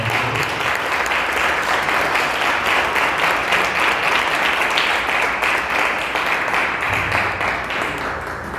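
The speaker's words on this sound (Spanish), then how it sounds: "Denle un buen aplauso al Señor, por favor." A church congregation in Ecuador applauds at a service, a loud, dense, sustained wall of clapping that fills the room without pause.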